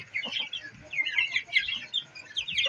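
Aseel chickens and a broody hen cluck and chirp steadily while eating, the calls close and moderately loud, overlapping in repeated bursts with soft rustling beneath.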